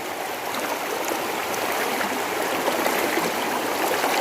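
Water pours steadily over an overflow weir, a continuous broadband rush and splash that stays close and loud throughout, with no voices.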